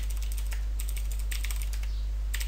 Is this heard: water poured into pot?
no